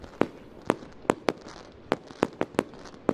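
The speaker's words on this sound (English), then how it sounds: "We have the fireworks here." Fireworks bursting at a dirt track speedway during a Lucas Oil Late Model Dirt Series race night: a run of sharp, loud cracks and bangs at irregular intervals, about eight distinct reports.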